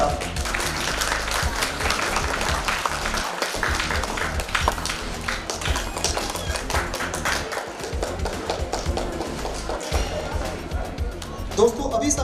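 Applause from the crowd at a school chess championship runs on steadily, a thick rattle of clapping hands punctuated by louder taps and thumps, with speech continuing over the top.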